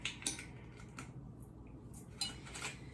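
Spoon clinking against a bowl while stirring keto mincemeat mixture, a few light scraping and tapping sounds at an even pace, close and fairly quiet.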